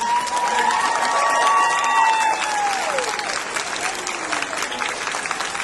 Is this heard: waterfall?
no